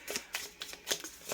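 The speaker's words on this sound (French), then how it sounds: "Je vais sortir une deuxième carte, l'aboutissement pour vous les cancers." Tarot cards drawn from a deck during a reading, giving several quick, crisp papery swipes and flicks spaced over a second, close and fairly quiet, with no talking.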